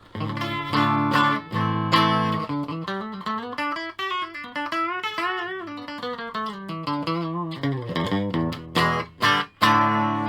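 An electric guitar played through a compressor plays a sustained, bending melodic line with a smooth, evened-out tone, framed by bright strummed chords at the start and end.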